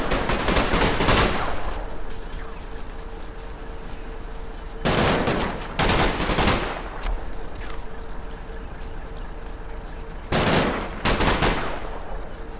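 Staghound armoured car laying down suppressive fire in the World War II game Combat Mission, Market Garden campaign: several loud bursts of automatic fire separated by quieter stretches of low rumbling ambience.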